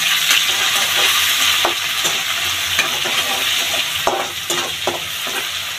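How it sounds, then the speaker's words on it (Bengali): Ginger garlic paste with green chilies fries in a pan for home-style chicken biryani, a dense, close sizzle broken by repeated scraping and clicking strokes of a spoon stirring it. "কিছুটা আদা রসুনের পেস্ট। এগুলোকে ভালো করে প্রথমে পাকিয়ে নেব।"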